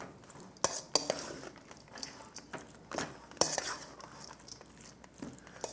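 A spoon scrapes and clanks around a pot of boiled chicken gizzards, with sharp irregular metallic knocks over a soft wet stirring, close by and fairly quiet.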